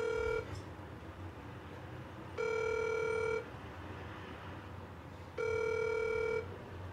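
An outgoing telephone call rings back with three evenly spaced one-second electronic tones separated by quiet pauses, faint and clear over low background hiss.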